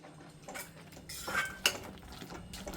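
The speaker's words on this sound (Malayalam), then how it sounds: "ആ വറുത്ത തേങ്ങ കൂടി ഇട്ട് അങ്ങോട്ട് ഇളക്കിക്കൊണ്ടിരിക്കുകയാണ്" A spoon clinks and scrapes inside a pot while roasted coconut is stirred into a sweet pineapple curry, a few quiet, irregular metallic knocks and scrapes with soft background noise.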